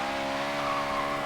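A Honda Civic in Forza Horizon 3 skids under the e-brake, giving a brief, loud, continuous engine drone with tire noise layered on top.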